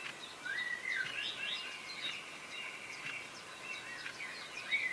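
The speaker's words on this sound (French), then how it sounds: "Des oiseaux volettent de branche en branche." Small birds chirp and sing in a garden, a continuous stream of light, high twittering calls at moderate distance over a soft, steady background.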